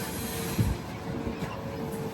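An express train pulls out of Mangaluru Junction, heard from on board as a low, faint rolling rumble of wheels on track with a soft steady hum and a brief clank.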